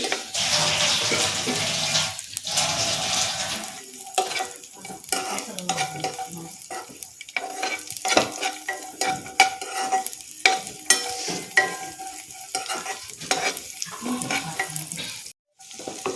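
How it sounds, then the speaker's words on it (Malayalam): Raisins and cashews stirred while frying in a pan, with a steady sizzle broken by repeated scraping strokes of the spoon, close up and loud, with no talking. "അതൊന്ന് ഇളക്കാം. അതിൻ്റെ കൂട്ടത്തിൽ കുറച്ച് മുന്തിരി,"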